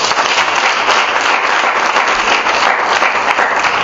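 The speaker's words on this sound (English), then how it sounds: "Give yourselves a big round of applause." An audience at the close of a celebration event breaks into loud, sustained applause, many hands clapping together continuously for several seconds.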